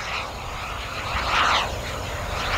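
An RC turbine jet plane flies a landing approach, its engine a steady whine and rush that swells briefly as it passes, distant and alone.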